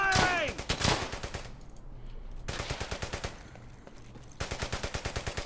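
Rapid bursts of automatic gunfire from the World War II shooter Brothers in Arms: Hell's Highway crackle in close, repeated volleys with short pauses in between.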